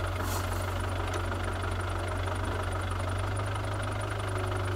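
A ten-year-old excavator's diesel engine idles nearby with a steady, knocking low rumble that never changes in level.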